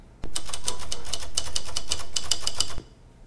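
Typewriter keys clatter in a quick, even run of about a dozen sharp, close strikes, loud and crisp, used as a typing effect for text animation, then stop abruptly.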